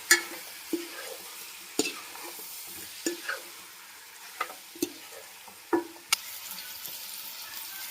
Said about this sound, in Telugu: గరం మసాలా అండి. ఒకసారి మొత్తం కలుపుకుందాము.